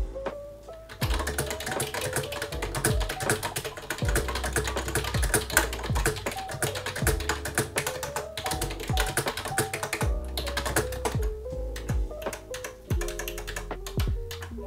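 Fast, continuous clacky typing on a Yunzii Actto B303 typewriter-style mechanical keyboard, close up, with dense irregular key strikes and occasional heavier thocks running throughout.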